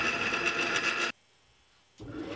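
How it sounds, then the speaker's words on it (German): A drill press boring 7 mm holes through square steel tube gives a loud, steady broadband whir with a grinding edge, cuts off abruptly into near silence for about a second, then starts up again. "dann werden die 7 mm Löcher gebohrt"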